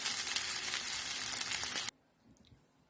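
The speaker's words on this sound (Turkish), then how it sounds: "Birazcık kızartmamız yeterli oluyor pirincide." Rice for cabbage rolls frying in a pan, a dense steady sizzle lasting nearly two seconds before cutting off abruptly to near silence with a few faint clinks.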